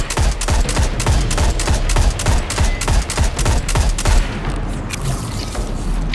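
Rapid bursts of gunfire with booming cannon blasts during Destiny 2 combat, loud and dense for about four seconds before easing into quieter rumbling.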